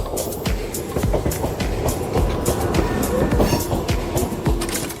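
A local train with ICF coaches runs at Kalinarayanpur Junction station on a line to Sealdah, giving a steady rumble with rapid clattering wheel clicks throughout, moderately loud and close, without speech.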